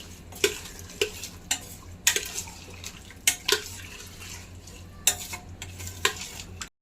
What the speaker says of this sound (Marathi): आणि हे चांगलं परत त्याच्यात मिक्स करून घेऊया